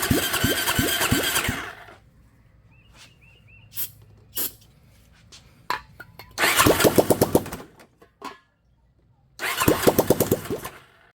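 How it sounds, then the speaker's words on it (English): A cheap $400 dirt bike engine fires in short bursts of rapid pops, sputtering for a second or two several times without catching, with quiet gaps and small clicks between attempts. "it will still kind of fire a couple of times. It won't fully start"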